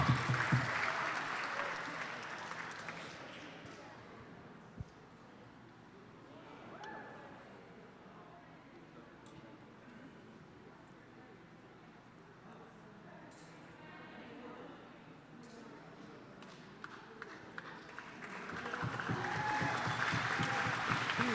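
Crowd cheering and clapping for a climber at the 2022 Paraclimbing National Championship finals, loud at the start, dropping to a low murmur with a commentator talking, then swelling again into strong applause at the end.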